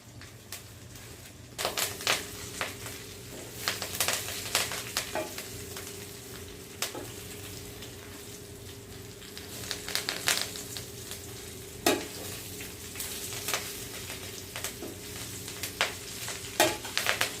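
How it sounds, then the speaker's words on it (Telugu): Curry leaves and dried red chillies frying in oil on low heat, a steady soft sizzle broken by scattered crackles and the clatter of stirring, fairly quiet and close. "మనం సిమ్లోనే ఫ్రై చేసుకోవాలండి. ఆయిల్ ఉంటుంది కాబట్టి లైట్గా చిటిపట్లాడుతూ ఉంటుంది."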